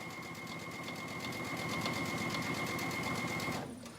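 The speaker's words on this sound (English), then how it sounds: "And then just like we sewed, we are sewing up that back placket." A sewing machine runs a steady top stitch up a garment's back placket at a long stitch length, humming continuously and close for about three and a half seconds before slowing and stopping, with no talking.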